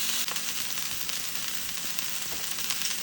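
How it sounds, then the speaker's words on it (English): A full pound of raw beef searing in a pan of hot oil, left undisturbed, giving a steady, close, even sizzle and crackle throughout with no talking. "put the full pound of beef right on top of that oil. And I'm gonna let it cook undisturbed for a little bit so that it'll sear nicely"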